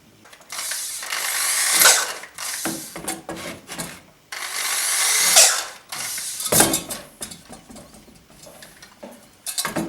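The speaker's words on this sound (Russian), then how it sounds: "Я думаю, что мне получится так просверлить" A hand drill bores a hole through an elbow pad part in short grinding bursts, with rasping, ratcheting pauses between runs, close and fairly loud.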